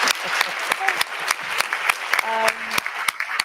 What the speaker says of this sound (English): Ladies and gentlemen, round of applause for our fantastic.